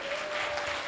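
Audience applause for primary schoolchildren at a church Vacation Bible School Sunday event, a brief steady burst of many hands clapping at moderate distance with a faint tonal hum underneath.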